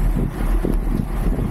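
Steady low rumbling wind buffeting a microphone on a bicycle race course, continuous and close with no distinct events.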